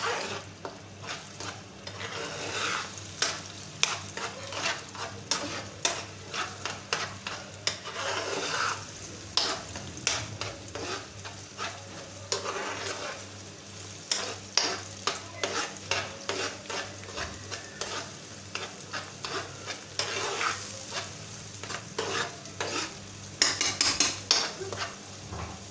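Egg and onion bhurji being stirred in a pan on a dhaba-style stove, with continuous sizzling and frying under repeated scraping and clinking of a spatula against the metal, steady and close throughout, no talking.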